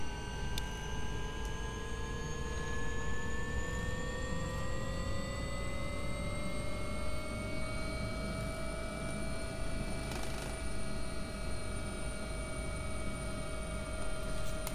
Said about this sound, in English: We have flight on both engines.